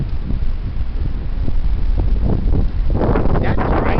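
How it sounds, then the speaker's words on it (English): Heavy wind blowing outdoors, roaring and buffeting the microphone in steady gusts that swell louder toward the end, with a rustle of foliage mixed in. "Here it is. The heavy wind."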